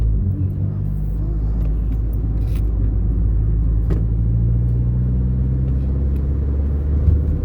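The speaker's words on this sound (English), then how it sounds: "The car's driving fine, it sounds fine" Steady low rumble of a car driving along a road in the UK, from Wales into England, heard from inside, with constant engine and tire noise and occasional small knocks.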